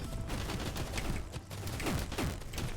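Rapid bursts of small arcade gunfire from a gunner enemy in the video game SNKRX, dense crackling volleys layered with game effects at a steady moderate level, without speech.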